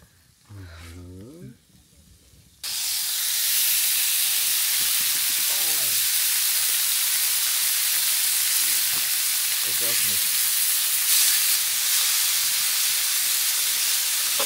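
Thinly sliced steak hisses and sizzles loudly over a campfire at an outdoor bushcraft gathering, a bright continuous frying crackle that starts abruptly after someone speaks briefly, with occasional quieter voices over the sizzle.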